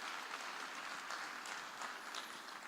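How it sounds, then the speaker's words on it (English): Faint, distant applause from a packed hall audience at a data and AI summit, a continuous spread of many hands clapping with no voices over it. "A round of applause for the Blue Chip team,"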